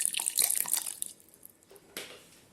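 Water is poured into beetroot, curd and spices for a lassi, a splashing burst that tails off into a few drips, followed by a brief second splash, close and fairly soft.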